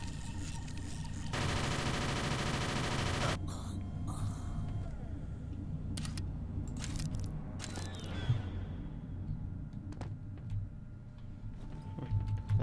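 A sentry gun fires in Aliens vs Predator 2 with a dense, rapid burst of shots early on, followed by sparse clicks and scattered impacts over a low hum.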